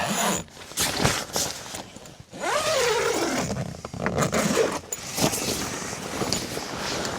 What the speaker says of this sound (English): Zip the other side.